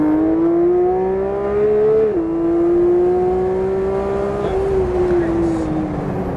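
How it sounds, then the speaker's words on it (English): A Porsche engine on a race track drones steadily, with pitch climbing under acceleration, easing briefly, then rising again, loud and close from inside the car. "Gentle throttle, pulls us back to green your side. Look past the next green to red. Pull on power. Accelerate to red."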